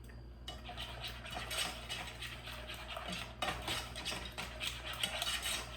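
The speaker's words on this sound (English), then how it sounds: "whisking in the last part of the milk" Tapioca-thickened vegan cheese sauce whisked with milk for vegan mac and cheese, a steady scraping, clinking whisk against the pot that runs continuously and close, with no talking.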